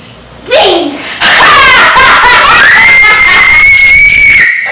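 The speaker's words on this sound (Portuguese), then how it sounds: "esse grito é muito alto" A child's loud, sustained high-pitched scream, with a short squeal and laugh first, then a long piercing shriek at full volume held for several seconds during a family food-swap challenge at home.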